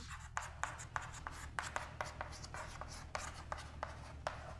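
Pen or pencil writing on paper during a chemistry lesson on naming coordination compounds: quiet, steady scratching strokes in short rhythmic bursts, close by, over a low background hum.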